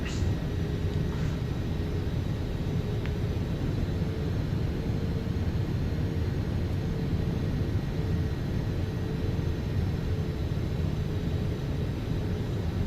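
Steady jet engine drone from a Gulfstream 550 business jet in the X-Plane 12 flight simulator on final approach to landing, a continuous low rumble and whine heard from inside the cabin with no other sounds over it.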